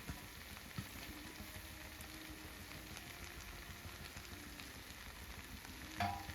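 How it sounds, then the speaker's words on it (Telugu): Cooked quinoa is stirred into a vegetable pulao in a hot pan, giving a quiet, steady sizzle with soft spoon scraping throughout and a brief clink near the end. "ముందుగా మనం వండుకున్న కినోవాని వేసుకొని కలుపుకోవాలి"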